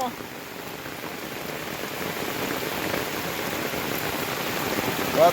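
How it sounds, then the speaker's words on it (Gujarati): Heavy rain pours down in a dense, steady hiss of drops that grows slightly louder toward the end. "માર વરસાદ આવ્યો છે"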